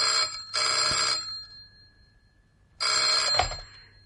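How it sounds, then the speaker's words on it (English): A telephone rings in two bursts, a short double ring followed by a pause and another ring, clear and close in a quiet room. "I put down the phone, but a few minutes later, it rang"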